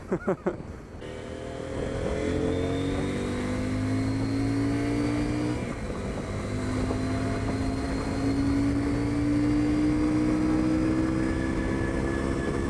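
A CF Moto 800 MT motorcycle pulls steadily in sixth gear, its engine drone rising gradually in pitch with a continuous close-up whine and wind rush, loud and unbroken after a brief opening knock.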